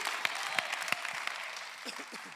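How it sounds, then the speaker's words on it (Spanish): A church congregation applauds loudly at a pastor's call during a sermon, sustained crowd clapping with a few sharper claps standing out and a voice briefly audible underneath as it tapers. "dale un aplauso fuerte, como que tú crees que Dios va a restaurar vida."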